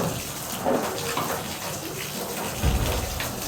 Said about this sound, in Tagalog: Yung tubig, pag ipatay nga.